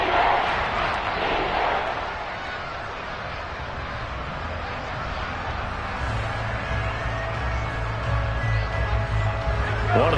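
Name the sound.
football stadium crowd cheering before a big third down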